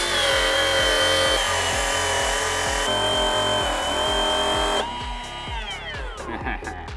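Power tool grinding out spot welds on a GR Supra body, a loud harsh whine with rhythmic pulsing chatter that runs steadily then winds down with a falling pitch near the end.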